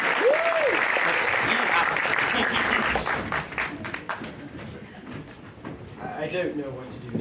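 Theatre audience applause at a high school stage production, dense and loud from the start, thinning toward the end as a voice begins speaking over it.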